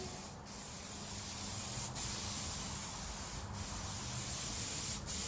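Vinyl paint is sprayed onto the roof of a Ferrari 308 GTS in a continuous close hiss, broken by a few brief pauses between passes.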